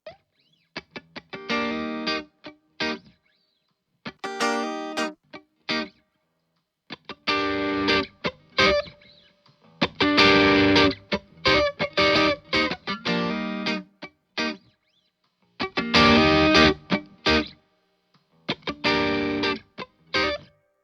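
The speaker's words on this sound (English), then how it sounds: "one of my favorite things with these tiny little Fender amps is how realistic their distortion is" Heavily distorted electric guitar through a small Fender amp simulator plugin plays short chugging phrases and chords, each burst separated by brief silences, with a crunchy amplified tone.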